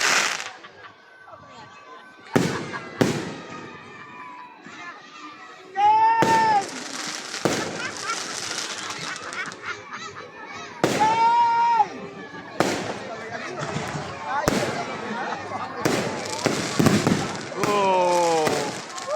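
Christmas fireworks in Santo Tomas, Batangas burst in repeated sharp bangs and crackles, some with whistling rises, scattered across the clip while people talk and chatter nearby throughout.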